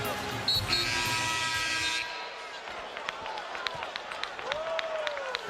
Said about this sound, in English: crowd really getting into this about Tyler Hansbrough going right into Baines